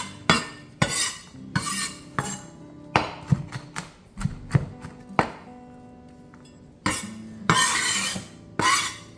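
A knife chops small garlic cloves on a board in a home kitchen, sharp irregular thuds and scrapes in bursts with short pauses, close and fairly loud, no voices.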